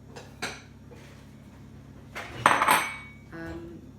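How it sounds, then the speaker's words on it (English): A kitchen knife chops the unwanted end off a vegetable for red lentil and quinoa soup, giving a few sharp, close knocks on the board with light handling clatter between them. "I'm going to chop that little bit off at the end, which I don't need"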